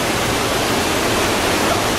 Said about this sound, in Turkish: Yaklaşık 30 metre yükseklikten dökülen şelalenin tadını çıkarmak isteyen doğa severler